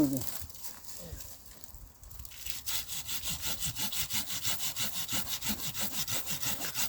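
A hand pruning saw cuts through a branch while pruning a vineyard and pear trees, starting with scattered rough strokes, then settling into a fast, steady back-and-forth rasp close by, with brief speech at the start.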